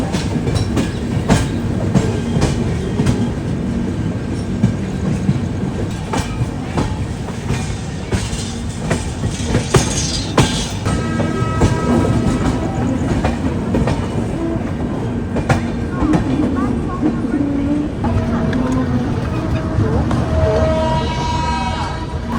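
Kerala Sampark Kranti Express rolling into Ambala Cantonment station in Haryana, a steady loud clatter of wheels over rail joints with rhythmic clicks and rumble throughout, carriage noise filling the whole stretch.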